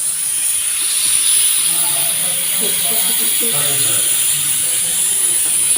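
A pressure cooker cooking rice in a home kitchen hisses loudly and continuously, a steady high steam jet with faint clicking and rattling mechanical sounds underneath.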